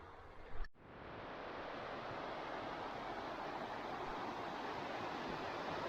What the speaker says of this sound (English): Creek's in good shape.